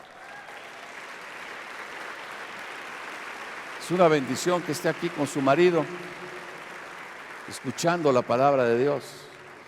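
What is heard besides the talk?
church congregation applause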